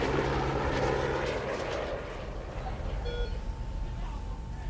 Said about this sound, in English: he scoops Christian into the helicopter and powers away